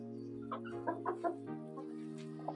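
Hens cluck softly in a chicken coop, several short murmuring clucks close by over a steady low hum, with no talk.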